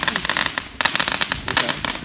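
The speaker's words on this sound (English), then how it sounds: "I jumped through that firework and it started popping." Legal consumer fireworks crackle and pop in a dense, rapid burst of loud sharp reports, with a brief gap before the popping resumes just as intensely.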